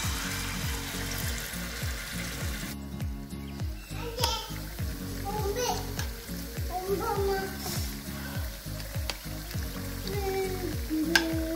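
Jackfruit unniyappam batter sizzles steadily in hot oil in an appam pan, a continuous crackling fry that sits under a voice talking throughout.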